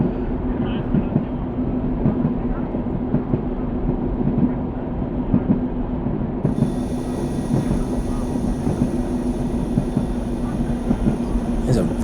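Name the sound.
diesel railcar coasting along the track in a train simulator video game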